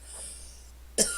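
A single sharp cough near the end, close and fairly loud, after a stretch of quiet background from a man playing Minecraft.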